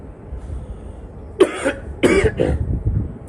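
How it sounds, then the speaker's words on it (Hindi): Two or three harsh coughs in quick succession, close by, with no talking around them. "ये जो खांसी हो रहा है ये क्यों हो रहा है?"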